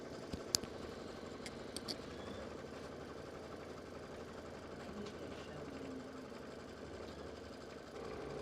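Embroidery sewing machine running steadily while stitching a tack-down line for an Easter tier tray project, a continuous low mechanical hum with a few faint clicks near the start, no talking.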